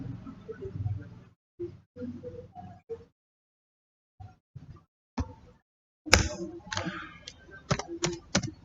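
Keys on a computer keyboard tapped in short quiet bursts of clicks with gaps between them, ending in a quicker, sharper run of keystrokes.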